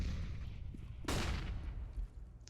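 Faint gunfire from a CS:GO match in a league game, a sharp burst near the middle with a few fainter shots and a steady low background rumble.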